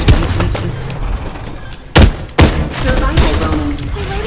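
Gunfire in the video game Farlight 84 cracks out in a few sharp, loud bursts over a busy background, mixed with scattered thumps.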